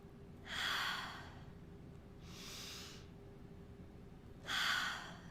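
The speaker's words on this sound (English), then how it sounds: "Wim Hof breathing." Wim Hof breathing: three long, loud breath sounds, deep rushing inhales or exhales spaced a couple of seconds apart, heard close and alone over a faint steady hum.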